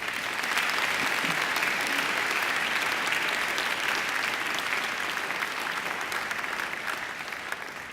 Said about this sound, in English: I think Angela deserves another round of applause